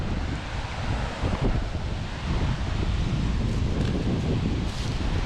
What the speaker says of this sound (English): I do apologise if it's windy on this adventure